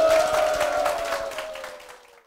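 A church congregation claps briefly for a woman being welcomed forward, a short burst of applause that tapers off over a couple of seconds beneath a lingering tone.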